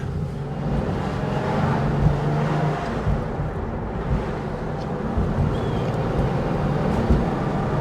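A 1992 Porsche 911 (964) RS N/GT Clubsport engine drones low and steady from inside the cabin, a constant rumble mixed with wind and road noise and no clear revving peaks.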